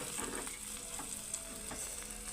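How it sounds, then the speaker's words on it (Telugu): An omelette fries in a pan with a constant close hiss and crackle, soft scraping touches as it is handled, steady and quiet with no voices. "జాగ్రత్తగా ఫ్రై చేయాలి"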